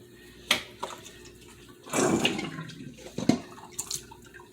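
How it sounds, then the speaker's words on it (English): Water is tipped out of a bowl of rinsed whole red snapper, giving a short splashy pour near the middle after a few scattered drips and clinks, close and moderately loud. "We're going to dump the excess water."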